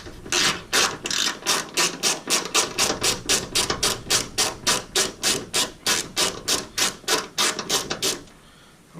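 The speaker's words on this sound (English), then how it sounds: "So we've got a 12mm socket on a socket wrench," Socket wrench with a 12mm socket ratcheting on a bolt during a ditch light install on a Gen5 Toyota 4Runner, a close, steady run of about thirty rhythmic ratchet strokes over eight seconds, ending abruptly.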